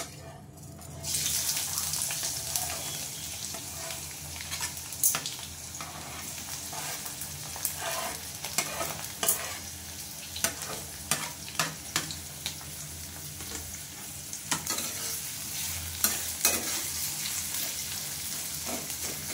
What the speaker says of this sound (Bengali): পেঁয়াজ আর টমেটোটা আমি তেলের মধ্যে দিয়ে দেবো